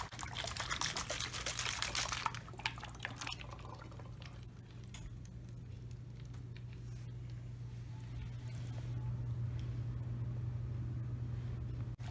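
Water swirls and gurgles inside a flipped tornado bottle, a faint, continuous trickling pour with a brief louder splashy burst at the start, close by and quiet.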